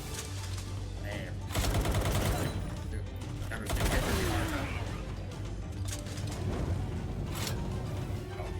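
Gunfire in a shooter video game as gunners are taken out: rapid bursts of automatic shots come in several clusters against a constant background rumble.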